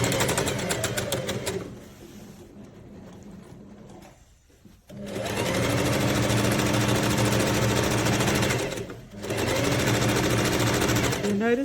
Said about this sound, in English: just sew the outside edge of the pocket, not this top straight line, but just the outside edge of the pocket